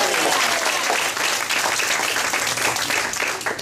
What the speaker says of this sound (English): Let's hear a round of applause for your county chairman.